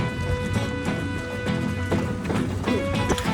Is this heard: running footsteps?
yes